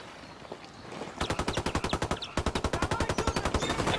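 Video game gunfire rattles in fast automatic bursts, a short sputter of shots followed by two long sustained streams of rapid, evenly spaced rounds, loud and close with no talking.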